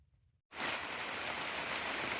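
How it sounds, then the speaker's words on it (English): Rain comes down on a wooden house frame under construction, where porch rafters are going up. After a brief near-silence it starts abruptly and continues as a loud, steady, close rushing hiss. "it's deciding to rain, but staying pretty dry in here."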